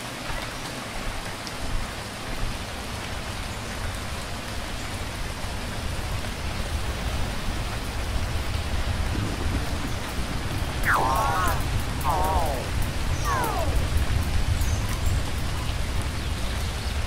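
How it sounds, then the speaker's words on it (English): Steady rainfall in the game Phoning Home, a constant dense hiss of drops that holds at an even level throughout. Several brief chirping calls rise above the rain partway through. "The rain is coming from very small clouds, as if the planet is sucking the water out of them."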